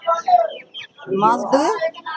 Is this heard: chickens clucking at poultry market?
yes